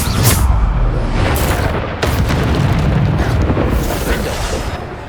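Bombarda blasting spell explosions in Hogwarts Legacy, heavy booming blasts that roll into one another, loud and close, with rumbling debris between the bursts.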